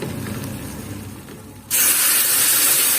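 Milk with salt and pepper hits golden toasted flour in a hot pan for a béchamel over zucchini. A low pan rumble gives way to a sudden, loud, steady sizzling hiss close by.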